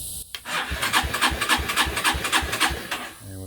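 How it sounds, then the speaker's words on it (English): A car starter motor cranks an engine with a clogged carburetor, giving a steady, rapid rhythmic chugging of about a dozen even turns, close and moderately loud with no voices. "we can see the starter turning over now"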